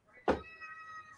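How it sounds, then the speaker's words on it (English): A pet cat gives a single drawn-out meow indoors. The call opens with a sharp attack, then trails off into a tonal, wavering tail. It is close and fairly quiet, with no talk over it. "He usually doesn't meow this much on stream."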